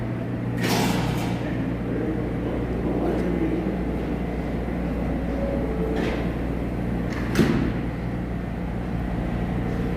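A New York L subway train rides along with a steady loud rumble and roar, close and continuous, with a few brief sharp clanks and squeals over the running noise.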